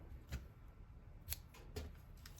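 Scissors snipping red taffeta ribbon edge during card crafting: three sharp, separate close cuts spaced apart over low background hiss, no talking.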